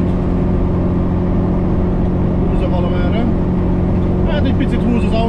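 A Moskvich 2140 cruises at about 80 km/h, its steady engine drone and road roar filling the cabin while someone talks over it.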